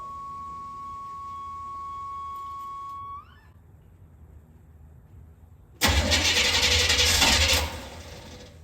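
A car engine fitted with a newly installed Holley Terminator X Max fuel injection system: a steady whine, then a pause and quiet, then the engine cranks and fires loudly, running a couple of seconds before settling lower.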